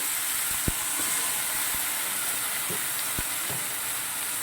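Brinjal (eggplant) pieces frying in mustard oil with ginger and green chilli in a pan, a steady, dense sizzle and hiss throughout with a few soft pops and stirring knocks, close and continuous.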